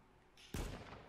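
A single sharp gunshot cracks out in the H1Z1 video game, a short loud burst with a brief decaying tail, close and alone.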